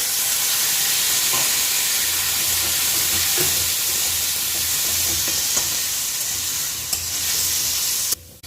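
Ginger paste, coriander paste and turmeric powder fry with added water in a pan, producing a steady, loud sizzle and hiss with occasional stirring scrapes, no voices.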